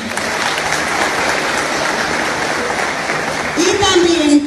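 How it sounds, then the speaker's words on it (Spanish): An audience at a school event in a high school gives sustained applause for the rector, a dense steady clapping throughout with a voice starting to speak near the end. "Un aplauso para él."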